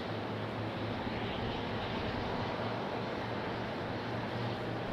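An Airbus A319 airliner arriving at Raleigh-Durham airport roars in a steady, broad rumble, loud and sustained, with no other sounds over it.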